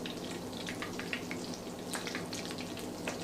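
Battered shrimp deep fry in hot oil with a steady, busy sizzle and crackle. Scattered pops rise over it at close range, and nobody talks.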